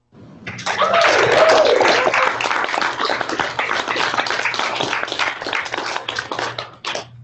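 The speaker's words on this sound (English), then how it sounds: "give a warm round of applause to Go Jacket, Mr. Walter Jones." Students applaud over a video call, a dense wash of clapping that swells quickly, holds steady for several seconds, then tapers off, with faint voices mixed in.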